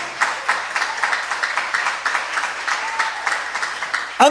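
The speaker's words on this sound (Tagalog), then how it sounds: "Palakpakan natin ang ating mahal na Panginoon" Church congregation clapping in praise during a preaching service, a steady ripple of many hands for several seconds with an irregular rhythm, ending in a brief louder sound at the close.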